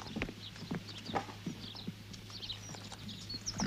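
Horses clip-clop along at a steady walk, hooves landing in an uneven but continuous rhythm at moderate distance, with a low constant hum beneath and faint outdoor ambience.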